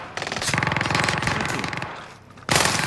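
MG82 machine gun fire in a video game: a rapid, steady stream of shots lasting about two seconds, trailing off briefly before a fresh loud burst resumes at the end.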